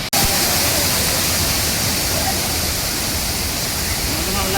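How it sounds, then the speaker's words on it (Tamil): A waterfall near Kanyakumari roars in a steady, dense, full-band rush of falling water, close and loud and unbroken throughout, with no talk over it. "இதாங்க ஃபால்ஸு."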